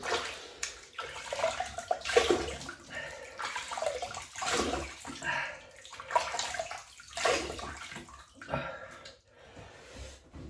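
Running water splashes in broken, uneven bursts as a face is wetted at a tap before a wet shave. It sounds close and moderately loud, with a few sharp splashy peaks.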